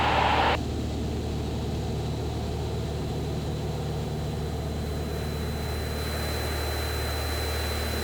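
Piper Comanche 250 engine in flight as the throttle is pulled back, a steady close cabin drone with a brief louder burst at the start that eases off into a constant hum.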